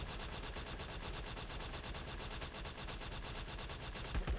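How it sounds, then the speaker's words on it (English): Rapid automatic rifle fire from the spider venom rifle in the LifeAfter video game, a steady stream of shots lasting the whole moment at moderate, even loudness with no talk. "So we use the gun. Open the skill and just shoot."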